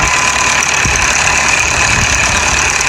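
A Mahindra Arjun 605 tractor engine runs loud and steady at close range, with a constant rough drone and no talking, while the tractor pulls two 18-foot trolleys up a sand dune.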